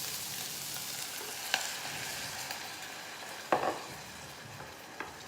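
Water poured into a hot cooking pot hisses and sizzles under a steady frying background, with a few sharp bursts of spatter and crackle standing out near the start and middle.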